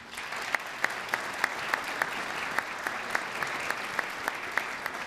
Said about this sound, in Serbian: jedan veliki aplauz za sve njih